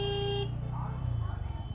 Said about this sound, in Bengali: হর্ন বাজাচ্ছে দেখো